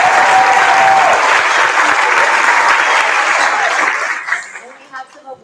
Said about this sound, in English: One last round of applause for all of our amazing.